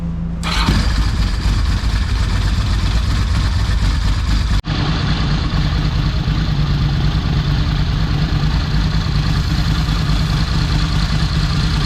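A 1992 Ducati 955SS with high-compression pistons cranks, catches and settles into a loud, steady idle heard up close. There is one brief cut partway through, and no one speaks.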